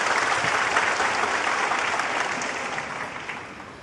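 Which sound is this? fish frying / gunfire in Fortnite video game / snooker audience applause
snooker audience applause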